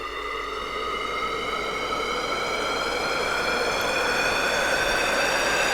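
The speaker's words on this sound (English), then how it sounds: "Then I automate this phasing noise." A sweeping, phased noise riser built from white noise in FL Studio for a big room breakdown builds steadily, its comb-like bands gliding upward while the volume swells toward the end.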